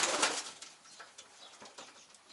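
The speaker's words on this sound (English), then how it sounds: "He's a nice bird, a beautiful pigeon." Pigeons in a loft coo softly amid a steady rustling, fairly faint hiss, with a few short calls and shuffling sounds and no voices.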